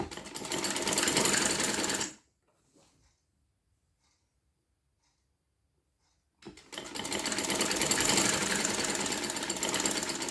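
A sewing machine stitches sleeves onto the shoulders of a garment, a steady rapid mechanical chatter running close and loud, stopping for a few seconds of silence before starting again.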